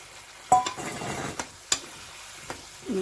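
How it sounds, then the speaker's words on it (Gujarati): Onions tipped into gravy in a pan start frying with a soft sizzle, while a spoon stirs and scrapes in several sharp strokes close by. No one speaks. "હવે જો આ ડુંગળી નાખી દઉં"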